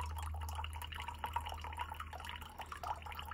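Filtered water squeezed from a Hydramate filter drips and trickles into an upturned drinking vessel, a faint, close, irregular run of small drips and splashes over a steady low hum.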